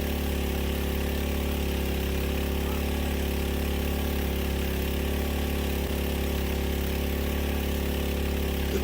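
A mud pump engine used for digging a well drones steadily and loudly nearby, a constant mid-pitched idle hum that holds unchanged throughout.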